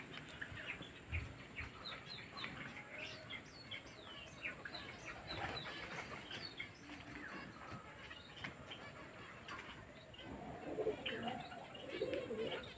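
Pigeons coo softly and flap their wings, with faint scattered calls and rustling under low background noise that swell slightly toward the end.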